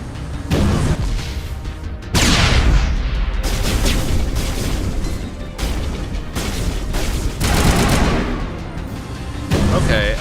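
Loud, dense bursts of video game gunfire and booming impacts from a Mass Effect firefight fill the whole stretch, with repeated rapid shots and heavy blasts running almost without pause.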